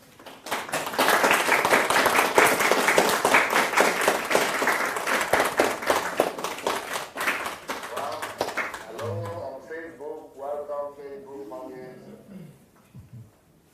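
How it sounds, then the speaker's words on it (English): Audience members clap to welcome an online audience, dense applause for several seconds that thins out before a voice begins talking over the last scattered claps. "Let's clap for them."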